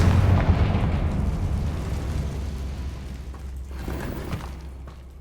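A Confringo blasting spell explodes in Hogwarts Legacy, one loud booming blast that rolls away into a long rumbling decay with scattered debris-like crackles.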